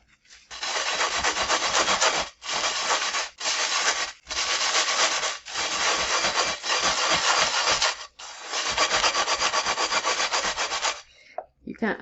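Play sand is scrubbed against the burnt bottom of a pot, making loud, gritty rasping strokes in several long bursts separated by short pauses.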